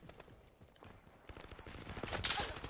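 Gunfire in the Call of Duty Modern Warfare beta: rapid bursts of shots crackle in quick succession, faint at first, then growing louder and denser toward the end, with no talk during them.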